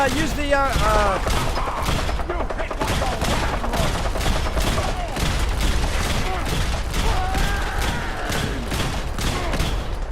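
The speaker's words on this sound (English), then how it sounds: "Who's shooting at me?" Rapid gunfire in Fallout 4 during a fight with super mutants and raiders, dense repeated shots with thumps and mechanical clatter, loud and continuous over a game soundscape, with speech-like game voices mixed in.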